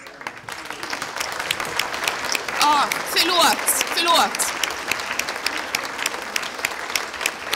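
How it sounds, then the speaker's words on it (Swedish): Audience applause at a lecture on computer games as cultural heritage, sustained clapping from a seated crowd that swells midway, with a few brief spoken words heard over it. "Ni får ställa er upp så vi får applådera er."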